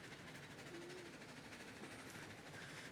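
A light train in the Railroads Online video game rolls along its rails, a faint, steady rumble with soft rhythmic clatter throughout and no talking.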